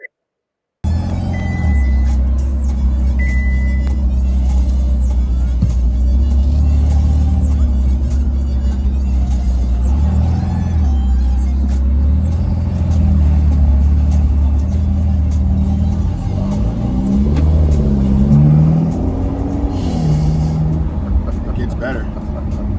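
A convertible sports car's engine rumbles with a deep, continuous low drone as it drives, rising and shifting in pitch with revs, while a person talks over it throughout.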